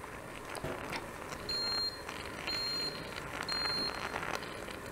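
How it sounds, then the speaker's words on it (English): An Instant Pot Rio pressure cooker switching to its cook setting gives three evenly spaced electronic beeps, each roughly a third of a second, faint against a busy kitchen background. "you heard the beep indicating that it switched to the cook setting"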